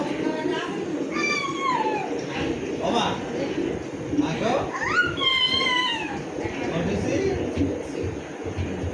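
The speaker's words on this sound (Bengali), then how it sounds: "এটা মটসের বিড়াল এটা নিয়ে মটসের খেলাধুলা" A cat meows several times in drawn-out, rising and falling cries while people talk in the background.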